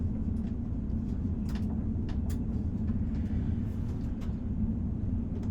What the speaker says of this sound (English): Train's still moving though.